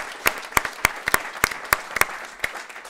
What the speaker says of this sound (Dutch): Een applaus alstublieft.